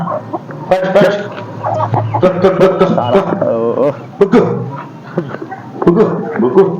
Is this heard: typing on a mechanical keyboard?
no